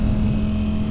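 A 2023 Ducati Streetfighter V4 with a TransLogic quickshifter gives a loud, steady engine roar, heard close and alone, held at constant revs through the short burst.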